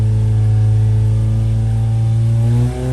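A Hillman Imp 1150cc engine runs hard on a dyno, its loud, steady revving drone holding high with strong harmonic tones before a brief dip near the end; no voices.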